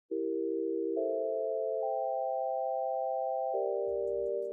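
A synthesized MIDI melody generated from the word Penny plays as a series of clean, sustained sine-like tones stepping up then down in pitch, alone in silence, ending with a brief low rumble.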